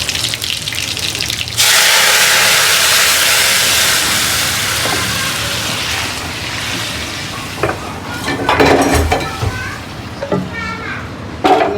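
After a short stretch of stirring noises, a loud, steady hiss of food frying in oil takes over and then fades, followed by clattering and scraping with a few voices in the background.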